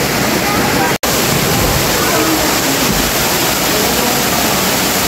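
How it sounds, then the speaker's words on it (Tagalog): Bukal Falls pours with a loud, close, unbroken roar of rushing water, cut off by a brief gap near the start, while voices talk faintly beneath the torrent. "Welcome to Bukal Falls."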